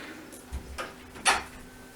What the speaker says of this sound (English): That's my daughter closing the door.